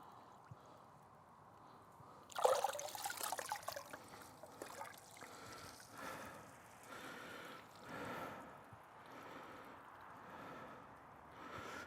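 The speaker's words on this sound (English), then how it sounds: "The best thing to do, I reckon, is to fill that with water then." Water running from a hose into a container in a garden beside straw bales, a sudden loud splashing gush that settles into a softer, uneven trickle lasting several seconds.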